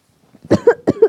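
Close, sharp coughing in two quick pairs of short bursts, each pair a harsh hack followed by a second cough, with no other sound around it.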